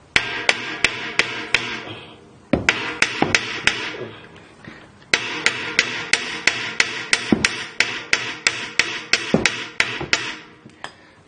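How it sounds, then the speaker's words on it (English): Hammer slamming a car's suspension to drop a ball joint while replacing the lower control arms on a Mitsubishi Galant/Legnum VR4, sharp metallic blows in quick runs of several strikes, around two dozen in all, loud and close. "there as hard as we can with a hammer until it drops"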